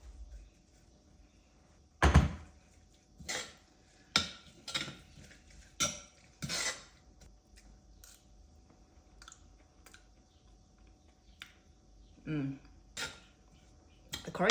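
Chopped coriander stirred through a tomato chilli dipping sauce, a series of irregular clinks and scrapes of a utensil against a bowl, spaced over several seconds, close and quiet, with brief talk in between.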